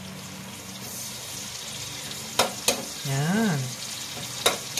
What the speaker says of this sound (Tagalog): Kaya alagay na po natin ang ating bawang at sibuyas.